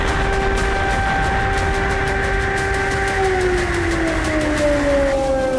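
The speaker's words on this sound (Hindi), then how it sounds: "एंगेल्स पर हमले के दौरान पूरा इलाका सायरन और धमाकों से गूंज रहा था।" Wailing sirens heard during an attack on the Engels airbase, with steady tones slowly falling in pitch over a loud rumbling background, no speech.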